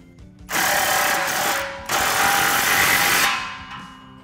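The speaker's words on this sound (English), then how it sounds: "we can slide our clamp into position and tighten that down with a 15 millimeter socket" Power impact tool on a 15 mm socket tightening an exhaust clamp on a 2021-2022 Ford F-150, two loud sustained rattling bursts, the second longer, close by with no talk.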